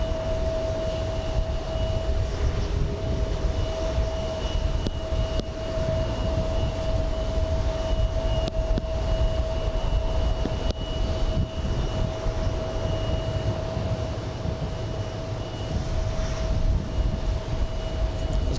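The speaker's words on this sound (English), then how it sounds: "Who's making all that noise? Little CRJ heading to the Alpha gates." A small CRJ regional jet taxis toward the gates at JFK, its steady engine whine and broad rumble holding constant throughout with no pauses.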